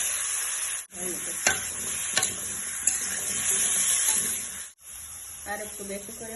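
Potatoes and garlic fry in hot oil with a loud, continuous sizzle, broken by scraping stirs and two short pauses, and a voice speaks briefly near the end.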